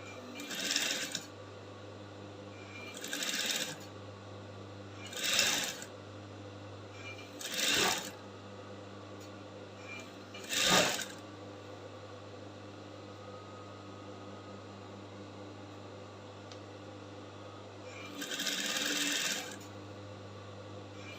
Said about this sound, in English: So as you are sewing, you'll be following the shape of your flounce or your flare.